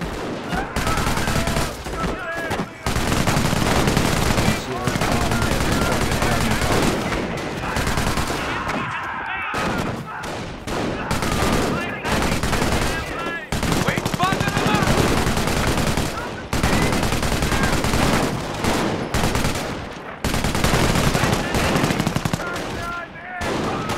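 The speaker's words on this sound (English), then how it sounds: "An MG emplacement is an excellent defense against attacking infantry." A machine gun emplacement in the Company of Heroes video game rattles off long bursts at attacking infantry, dense continuous gunfire with brief gaps, with game voices heard under the shooting.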